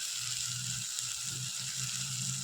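Spice masala for egg curry sizzling steadily in a pan, a soft, even frying hiss with faint low clatter beneath, no voices.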